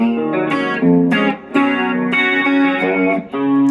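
Electric guitar chords through BlackBox and Foot Chocolate effect pedals, swirling with phaser and chorus, loud and close, several strummed changes in a steady rhythm with no voices.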